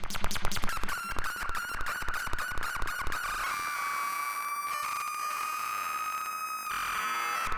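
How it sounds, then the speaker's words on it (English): Feedback patch through a mixer and fuzz pedal, used as a stand-in for a VCS3 synth, giving a dying-electronics sound: rapid stuttering clicks and pulses over a wavering, out-of-tune whistle tone that bends and settles into a sustained squeal. "This is the sound of electronics kind of almost dying"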